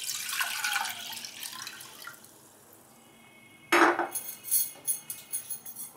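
Tap water pours into a cooking pot to boil tomatoes for a red sauce pasta, with a steady rush of running water, a short lull, then a sharper splashing burst as the stream strikes the pot.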